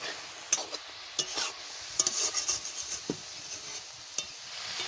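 Spiced mutton being stirred in a pan: intermittent spatula scrapes and clacks over a soft, low sizzle, close by and fairly quiet.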